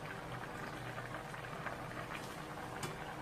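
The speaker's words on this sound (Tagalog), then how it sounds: "Ito na lods, kumukulo na." A pot of eggplant and bitter gourd leaves boils on the stove, a steady dense bubbling and simmering hiss, faint and continuous with no talk.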